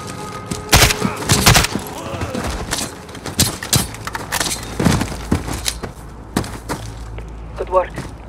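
Scattered shots and thuds from Call of Duty: Modern Warfare combat crack irregularly at mid distance, mixed with game voices and other battle noise.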